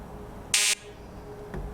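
A quiz game show buzzer sounds once, a short harsh electronic blast lasting about a quarter second, loud and close over a quiet room.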